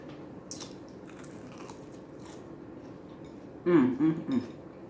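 Crisp bites and crunches from someone eating celery sticks, a single sharp snap early on, then a cluster of three loud close crunches near the end with quiet in between.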